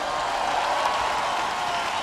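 A festival crowd at Viña del Mar applauds a performer, a dense, even wash of clapping that holds steady throughout without a break.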